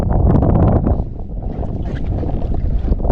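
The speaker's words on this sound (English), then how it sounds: "So the wind picked up in a very good way, made for very fun sailing." Strong wind buffets the microphone aboard a tiny two-meter sailboat on a Swedish bay, a loud continuous rumble with water rushing underneath and no voices.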